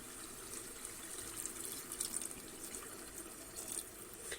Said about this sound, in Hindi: अब हम इसमें थोड़ा सा पानी ऐड करेंगे, सिर्फ आलू को पकने के लिए